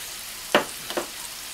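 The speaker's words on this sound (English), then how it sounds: "melt some butter in a pan" Butter melts in a pan for moussaka with a low hiss and two quick sizzling bursts close together, the second slightly weaker.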